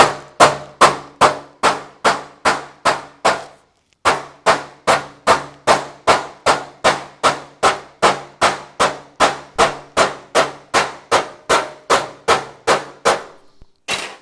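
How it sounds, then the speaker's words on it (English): Sharp metallic hammer blows on sheet metal backed by a dolly ring out in a rapid, steady rhythm, pausing briefly once before the strikes resume and continue evenly. "I can just keep working that area, hammering it back and forth"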